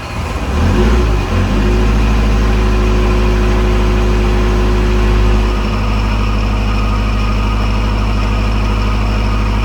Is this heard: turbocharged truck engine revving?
yes